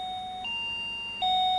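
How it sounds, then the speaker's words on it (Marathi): An electronic doorbell chimes its tones in a quick sequence, clear and close, with no voices. "हे बघ पुन्हा वाजते बेल बघ"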